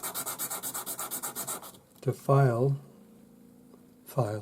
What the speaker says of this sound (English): Back on your sanding stick with 400 grade paper